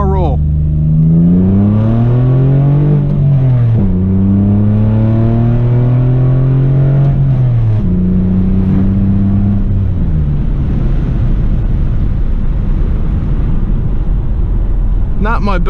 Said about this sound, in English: we're going to do some quick full throttle action here in the old V6 Firebird